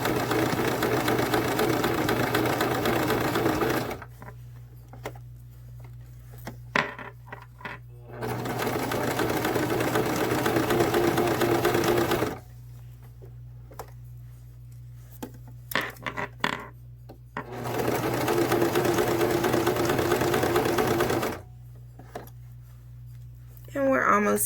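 A sewing machine stitches a blind hem, running in three long steady bursts of rapid mechanical whirring. Quieter pauses between the bursts carry small clicks and handling noises.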